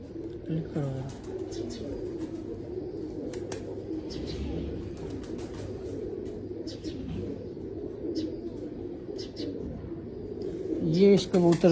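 Pigeons coo in low, repeated burbles close by while someone talks throughout, with occasional faint chirps and a brief flutter near the end.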